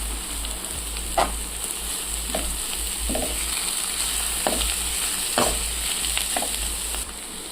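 Boiled fish being stirred into masala in a pan, with a steady frying sizzle underneath and several short scraping stirs spaced through the stretch, close and fairly quiet.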